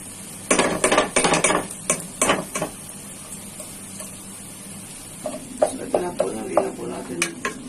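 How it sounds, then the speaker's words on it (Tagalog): Spoon scrapes and clinks against a pot as peanut butter goes into a pork kare-kare, in two bursts of uneven stirring with quiet gaps between. "Lagyan na po natin ang ating peanut butter."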